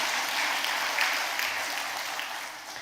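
A church congregation claps together in sustained, dense applause at a retirement and ordination thanksgiving service, steady throughout and slowly tapering toward the end.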